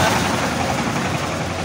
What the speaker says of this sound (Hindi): बीच में ट्रैक्टर ट्राली आ गई थी तो आपकी आवाज़ ज़रा सही तरह से नहीं सुन पाए